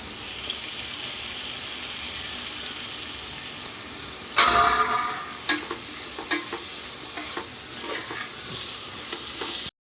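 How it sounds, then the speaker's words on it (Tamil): Tomatoes and onions sautéing in a pan for kuska, a steady sizzle and frying hiss with a louder burst of stirring near the middle and several sharp scraping clinks after it, close up and with no talk. "தக்காளி வெங்காயம் எல்லாம் நல்லா வதங்கிடுச்சு"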